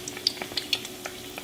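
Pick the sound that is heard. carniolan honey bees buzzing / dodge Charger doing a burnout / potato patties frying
potato patties frying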